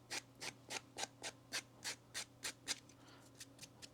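An NT Dresser sanding tool is rubbed back and forth along a frayed leather edge, making about a dozen close, evenly spaced scratchy strokes that gradually taper in loudness toward the end.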